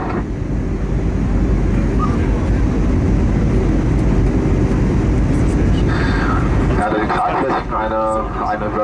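Engine and wind roar fills the cabin of an airplane cruising at about 370 km/h on a sightseeing round trip from Leipzig/Halle. The dense, steady drone stays loud and constant, thinning slightly near the end as faint clicks appear.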